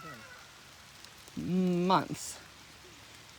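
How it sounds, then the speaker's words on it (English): Rain falls outdoors during fence work, a steady soft hiss of drops in the background, with a voice speaking briefly over it midway. "today, while we're working, it decides to rain"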